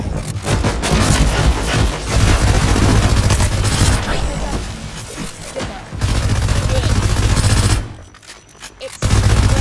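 Rapid automatic SMG fire from a video game's weapon lineup, dense bursts running nearly nonstop with a brief pause near the end, loud and close, with speech mixed underneath.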